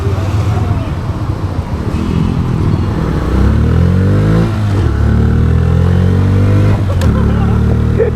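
A Bajaj Freedom 125 CNG motorcycle running on CNG pulls away in first gear, its engine note rising steadily up close over road noise, with someone talking throughout.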